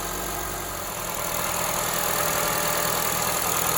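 A Honda CR-V engine idles while warming up, a steady, unbroken mechanical hum with a faint ticking texture running evenly throughout, heard close with no voices.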